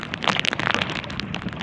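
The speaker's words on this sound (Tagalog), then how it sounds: "Ulan naman." A dense patter of tropical rain hits a surface close by at sea in the Philippines, steady and fairly loud, with scattered crackling taps.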